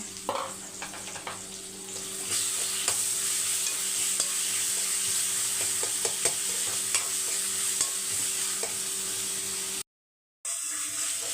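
Onions sauté in a pan with a steady close sizzle and scattered spatula scrapes for about ten seconds, then the sound cuts out briefly.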